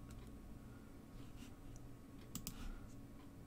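Sparse clicks and light taps from a computer mouse and keyboard at a desk during a Star Citizen session, soft and close, over a low background hum.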